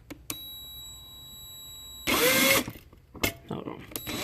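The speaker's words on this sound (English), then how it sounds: "Drill a hole in there." A short, loud burst of a small power drill whirring for about half a second while drilling a hole to retrofit halo lights, preceded and followed by quieter clicks and handling noises.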